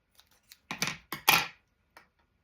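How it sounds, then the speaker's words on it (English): Scissors trimming cardstock for a pop-up star card, a few quick crisp snips close up, the last two louder, alone with no talk. "I can trim a little bit more off this, because I don't want all that bulk"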